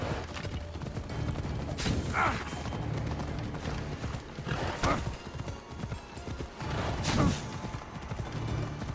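Horse hooves clip-clop steadily while riding in the game Assassin's Creed Odyssey, a continuous rhythmic trot with occasional whinnies and creaks over busy background ambience.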